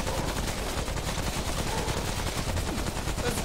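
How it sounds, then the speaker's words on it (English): Video game gunfire rattles in dense, continuous bursts, like a machine gun, at a steady moderate level. "Someone's shooting at us."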